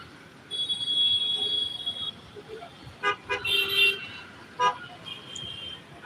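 Heavy road traffic moving slowly through a stretch narrowed by metro rail construction, with a steady engine and road rumble and several short car horn toots coming through at moderate distance.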